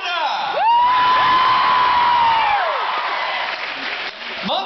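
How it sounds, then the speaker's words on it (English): A convention crowd at Fan Expo Canada erupts in loud clapping and whoops during a Q&A with actor Arthur Darvill, a dense roar of applause with a long shouted cheer riding on top. "You guys clap anything."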